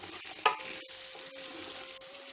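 Prawns fry with seasoning in a pot of Ghanaian okra stew, giving a soft, steady sizzle with one sharp clink of a utensil near the start and a faint tonal hum underneath.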